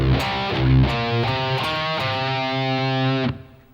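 A distorted electric guitar chugs through a riff, open low E palm hits moving into power chords, a series of loud choppy strikes ending in a held chord that is abruptly muted.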